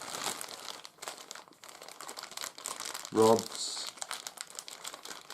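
A plastic bag of model aircraft kit parts, with laser-cut plywood pieces, screws, clevises and nylon wing bolts, crinkles and rustles steadily throughout, with one brief louder crunch near the middle while someone talks over it.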